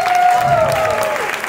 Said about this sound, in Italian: Un grosso applauso alla scuola di Daniele.